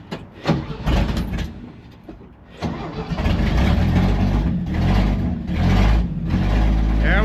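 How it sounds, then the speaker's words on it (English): A 1964 Chevy C30 one-ton truck engine cranks and catches, then settles into a loud, rough, uneven idle that keeps running close by, with the revs swelling and dipping over several seconds. "There we go, she's running."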